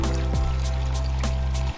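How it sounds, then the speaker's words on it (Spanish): Water pours steadily into a pot over chunks of squash for a Cuban-style soup, a continuous close splashing stream with a low steady hum beneath, ending abruptly after under two seconds. "Ahora voy a cubrirlo con agua"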